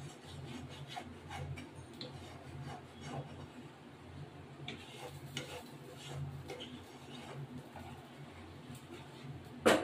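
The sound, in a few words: stirring prawn malai curry in pan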